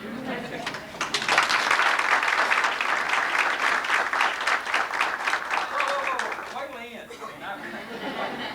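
An audience at a speaking event in Okmulgee, Oklahoma breaks into applause that builds quickly and sustains for several seconds, with chuckles and chatter mixed in as it tapers off.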